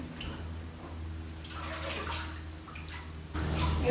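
Water pours into a pot for nettle soup in a kitchen, a soft splashing gurgle that swells and surges louder toward the end, with no voices.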